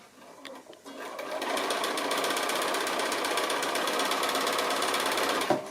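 A sewing machine joins rows of a quilt house sampler block, a loud, rapid, steady stitching rattle that runs for about four seconds after a short start.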